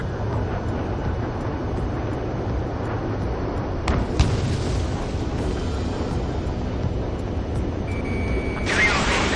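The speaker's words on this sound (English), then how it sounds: "H1 launching missile." Continuous jet roar in Ace Combat 7 with a missile launch and explosion bursts near the middle, plus a brief whoosh near the end, all loud and layered over the steady engine rumble.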